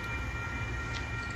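An MBTA commuter rail wash train rumbles past at steady volume, a continuous low mechanical drone with a faint high whine and no voices.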